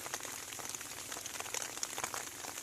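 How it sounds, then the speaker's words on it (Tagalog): Steady rain falling outdoors during a morning hunting trip, a continuous dense hiss with scattered louder drops pattering close by, no voices. "inabutan tayo dito ng ulan"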